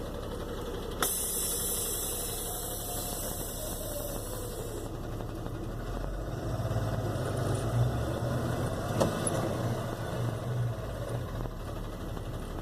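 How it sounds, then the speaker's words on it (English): A truck idles and creeps forward slowly before braking during a CDL pre-trip brake check, a steady low engine rumble with a faint electrical hum throughout and a slight swell as it moves. "you release the brakes, you pull forward to 5 miles an hour, and you step on the brake"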